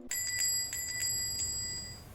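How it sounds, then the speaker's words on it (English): A shopkeeper's door bell gives a bright metallic ring, a quick cluster of chimes near the start, then a clear sustained tone fading away over about two seconds in a quiet room. "The shopkeeper's bell rings a farewell"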